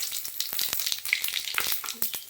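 Bay leaf, a dried red chilli and cumin seeds hit hot oil, crackling in quick sharp pops over a bright, close sizzle that runs throughout.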